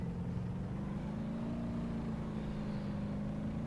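A heavily damaged car drives on in the BeamNG.drive video game, its engine a steady low droning hum with no sharp revs, held at constant level for the whole span.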